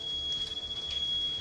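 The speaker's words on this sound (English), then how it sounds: "You could actually hear the fire alarm going off" A fire alarm in a house burning during the Fort McMurray wildfire sounds as a steady, high-pitched electronic tone, held without a break over a low background rumble.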